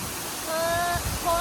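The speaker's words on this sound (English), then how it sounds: "it's our first waterfall here in Iceland" Þórufoss waterfall in Iceland, a steady broadband rush of falling water heard from nearby, with some faint tonal sounds and a voice partly over it.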